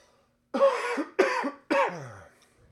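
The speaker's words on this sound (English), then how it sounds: "Pardon my coughing." Three harsh coughs in quick succession, close and loud, each followed by a short wheezy tail, with silence before and after.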